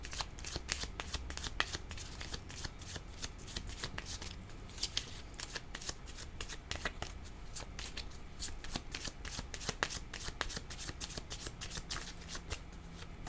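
Tarot cards shuffled continuously and up close, a dense run of quick papery riffles and flicks that carries on steadily throughout with no talking.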